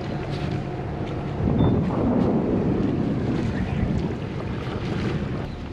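A carbon Kinetic 62 catamaran motors along in light wind off the Yasawa Islands, a steady engine-and-water rush under heavy, constant wind buffeting on the microphone, with no talk.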